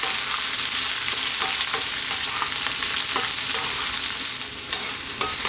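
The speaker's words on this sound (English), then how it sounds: "I'm going to give it a stir every now and then." Eggplant pieces fry in a pan for an eggplant chickpea curry, a bright continuous sizzle up close, broken by scraping clicks as the pieces are stirred now and then.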